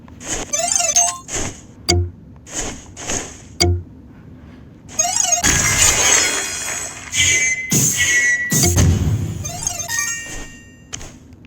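Glass shatters repeatedly in a video game, several sharp, bright breaking crashes separated by short gaps, with a longer burst of smashing and ringing debris in the middle and faint synthetic tones around them.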